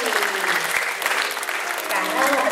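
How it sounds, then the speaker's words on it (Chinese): Audience applause fills a school graduation ceremony hall, a steady, fairly close wash of many hands clapping for a couple of seconds. "好，掌声鼓励"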